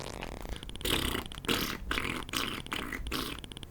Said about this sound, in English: the sound effects are all just basically different ways of trumping